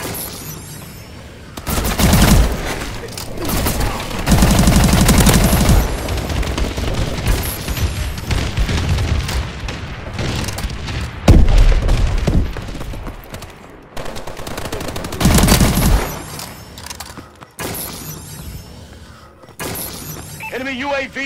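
Call of Duty Advanced Warfare match in Detroit with a bombing run pounding the area: heavy booming explosions and bursts of gunfire crowd the scene, with in-game voices breaking through here and there.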